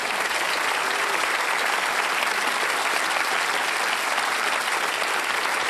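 Sustained applause fills a panel-discussion studio as the audience thanks the panellists on a religion and philosophy program, with steady, dense clapping holding loud and even throughout, no voices standing out.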